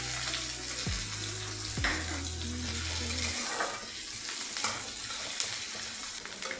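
Onion frying in oil in a pan with a soft, low sizzle and a few brief stirring scrapes, quiet and close, while faint tonal background noise fades out early.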